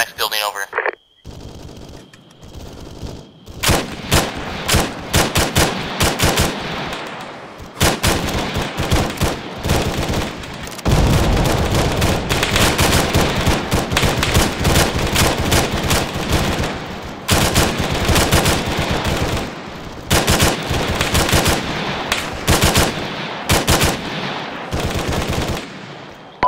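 Sustained enemy gunfire in the military shooter Arma 3 during a team-versus-team recon mission: dense bursts of automatic and single shots, loud and close, continuing almost nonstop for over twenty seconds with brief lulls, and talk heard under it.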